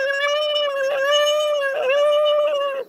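A person vocally imitating a spider monkey call: a sustained, whining tone with a few small breaks, loud and close, lasting a few seconds.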